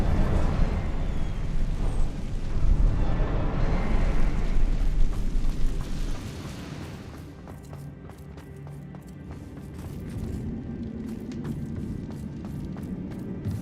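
Incendio fire spell cast in the game Hogwarts Legacy, a loud roaring whoosh and rumbling burst for several seconds, then fading into a quieter crackling ambience with light footsteps.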